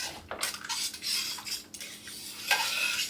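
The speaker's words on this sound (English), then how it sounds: "now's a good time to give this a good stir and get some of that cream cheese" A spoon stirs chicken queso pasta with cream cheese in a pot, giving several close scraping and clinking strokes against the metal with soft wet squelches, fairly quiet and without talk.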